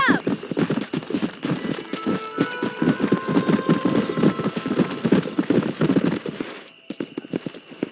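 Horse galloping in the Red Dead Redemption 2 video game, a steady rapid clip-clop of hooves under game music and speaking voices, with a brief neigh; hoof beats thin out near the end.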